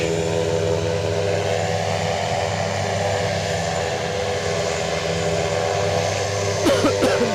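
A German Airways aircraft pushes back at Aberdeen airport, its engines giving a steady, loud droning hum with layered tones, briefly joined by a rising whine near the end.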